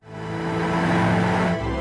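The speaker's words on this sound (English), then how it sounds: "Honda wanted to get some exhaust volume without a dull, pain-in-the-ears motorway drone" A Honda Civic Type R FK8 with a three-pipe exhaust, a single pipe split into three with straight-flow mufflers on the outer pipes, gives a loud, steady, throaty engine note that rises briefly and then settles, heard alone.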